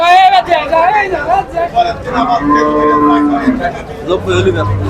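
A cow at a Barobazar cattle market gives a long, loud nearby moo, while a crowd murmurs and chatters in the background.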